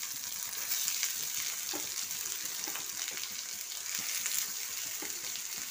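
Onion, ginger, garlic, green chili and capsicum frying lightly in a pan make a continuous close sizzle of oil, broken by soft scraping knocks of a spatula stirring at irregular intervals, with no voices.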